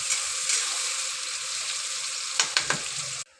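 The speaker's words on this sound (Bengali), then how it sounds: "তারপরে দেবো কেটে রাখা পেঁয়াজ। সবগুলোকে একটু ভালো করে নিয়ে নেবো, দিয়ে পেঁয়াজটাকে ভালো করে ভেজে নেবো আগে।" Sliced onions and whole cumin seeds frying in hot oil, with a steady, loud sizzle and a few sharp spatula scrapes near the end before the sizzle suddenly cuts off.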